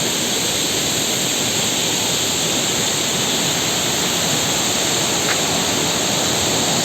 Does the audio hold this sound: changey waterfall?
yes